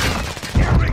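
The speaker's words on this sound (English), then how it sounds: "Damn, he got that sniper on me." Sniper rifle fire in Call of Duty: Modern Warfare II, a short burst of sharp gunfire with a booming tail in a one-second moment of online play, loud and close.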